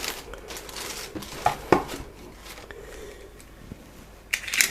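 Packaging being opened with a knife for a Motikom Bluetooth helmet intercom: soft crinkling and scraping with a few sharp clicks and snaps, close and fairly quiet, without speech.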